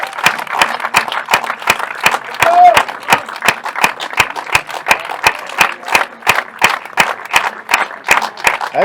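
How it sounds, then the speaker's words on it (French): Rhythmic hand clapping after a padel tournament final, a steady run of sharp, evenly spaced claps from a small group, fairly close and continuous, with no other sound over it. "Ah, Max qui applaudit."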